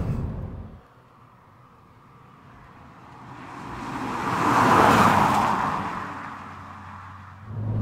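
An original Audi TT sports car drives by, its engine and tyre noise swelling steadily to a loud peak and then fading away.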